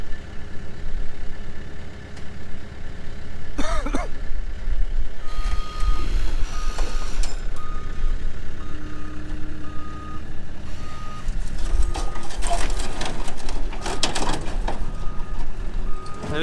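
Loud repeated reversing beeps from a truck unloading a 1961 Chevrolet Bel Air four-door sedan, over a steady diesel engine rumble with clanks and mechanical noises, no talking.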